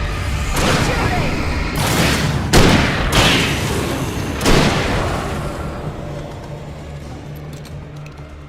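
Gunfire in Alan Wake comes as several loud, booming shots spaced a second or so apart, then fades into a low rumble. Shouting voices are heard across it.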